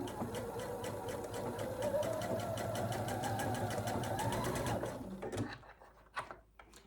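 A sewing machine stitches a quarter-inch seam on a fabric basket. It runs as a steady, fast mechanical whir for about five seconds, then stops, leaving quieter handling noises.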